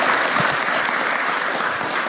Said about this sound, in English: Everybody give Marcel a round of applause.